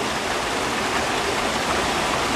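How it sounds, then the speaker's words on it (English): Water from a stream rushes steadily nearby, a dense, even hiss and gurgle that stays constant throughout with no voices. "here he is down by the stream"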